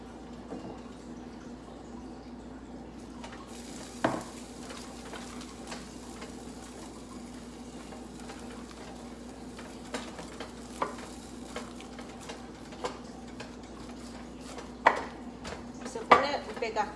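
Oat tortilla dough being stirred and mixed in a kitchen, with soft scraping and scattered clicks and clacks of utensil against a bowl over a steady low hum, faint and continuous with a few sharper knocks toward the end.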